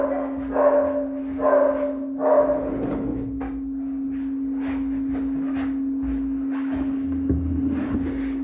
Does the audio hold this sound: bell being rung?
no